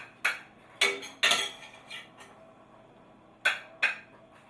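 A spoon moves vegetables into a dish, giving several sharp, close clinks of metal on dishware spread out with pauses in between.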